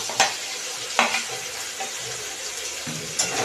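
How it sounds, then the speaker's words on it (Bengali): Fried okra stirred into a mustard and green chilli curry in a pan, a soft steady sizzle with a few sharp scraping stirs spaced about a second apart, no voices. "এখন আমি দিয়ে দিব ভেন্ডিগুলো, ভেজে রাখা ভেন্ডিগুলো"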